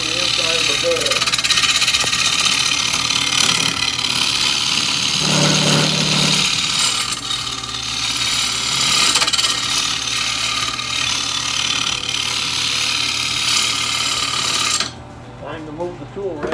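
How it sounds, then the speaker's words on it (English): A wood bowl is cut aggressively on a lathe, giving a continuous loud scraping, rubbing hiss over the motor's steady hum, with a brief lower tonal stretch partway through and a sudden drop near the end. "I'm cutting pretty aggressively because I want to get this ready so we can turn it around and begin to form the inside of the bowl."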